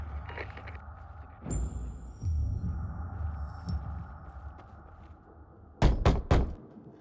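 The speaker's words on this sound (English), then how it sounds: "Knock on some doors" Knocking on a door in Dying Light 2: a quick burst of three loud, sharp raps near the end, following a stretch of quieter in-game ambience and scattered thuds.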